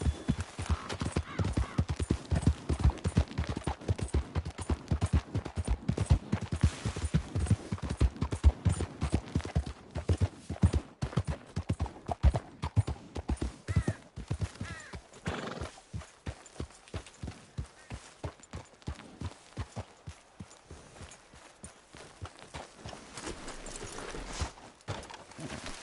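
A horse gallops in Red Dead Redemption 2, its hooves beating a fast, close rhythmic clatter that runs continuously and eases into a slower, sparser pace toward the end.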